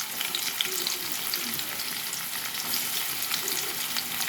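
Onions and kasuri methi fry in oil, giving a continuous, even sizzling crackle heard close and alone for a few seconds.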